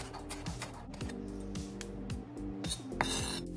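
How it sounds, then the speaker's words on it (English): A knife finely chopping the white part of a scallion stalk on a board, quick repeated taps in a brisk, even rhythm, close and clear, with a faint scraping at the end and no talk. "Finely chop only the white part of one stalk of scallion."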